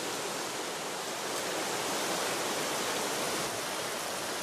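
A river rushing in the Korean demilitarized zone, where a patrol crosses it on a rope: dense, constant broadband roar of water with no break or change.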